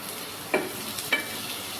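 Chopped ivy gourd stirs in a hot pan, a soft continuous sizzle broken by two brief scraping stirs of the spatula.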